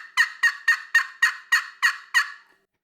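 A hand-operated turkey call imitates a hen's cutting call. Eight sharp, evenly spaced clucks follow one another quickly at close range, then stop, leaving silence.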